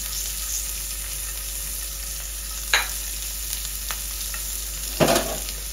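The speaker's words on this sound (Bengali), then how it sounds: "তো পেঁয়াজটা একটু ভেজে নিতে হবে, একটু লালচে করে।" Chopped onion fries in a pan, a constant close hiss of sizzling oil broken by two sharp scraping stirs, with no voices.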